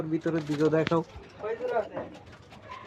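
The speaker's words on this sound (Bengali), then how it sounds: "কত সুন্দর কবুতর" Pigeons cooing on a rooftop, a few soft close coos mixed in under a person speaking nearby.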